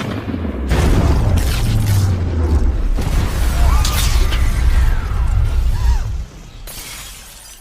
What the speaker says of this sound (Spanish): provocando una gran explosión que deja a muchas personas heridas